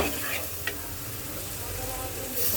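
Masala for a fish curry with potatoes is stirred and fried in a pan, heard as a dense continuous close sizzle with one brief scrape of the spoon partway through.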